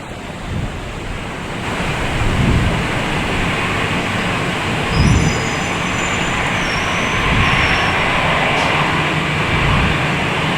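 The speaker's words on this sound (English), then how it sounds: "There's the Lufthansa A340." A Lufthansa Airbus A340 jet at Boston Logan Airport: a loud, broad engine roar that swells and holds steady, close by and buffeted by wind.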